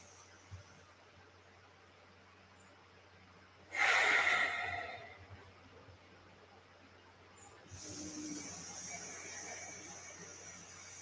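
Deep breathing during a yoga practice: one strong, close breath rises and fades, then a softer, longer breath follows after a pause, in a quiet room.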